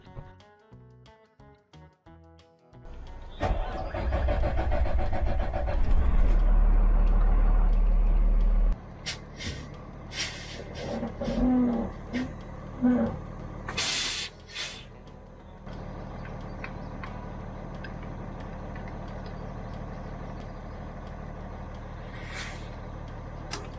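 A Freightliner-style M2 truck engine cranks over and settles into a loud, steady diesel idle, with a brief air-brake hiss and other rattles partway through, near and without speech.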